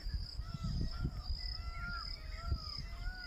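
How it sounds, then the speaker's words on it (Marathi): Morning birdsong on a rural Maharashtra onion farm: several birds call and chirp repeatedly in the background, with crow-like caws and short bursts scattered over a low rumble of ambient noise, no speech. "तर असा पक्ष्यांचा आवाज"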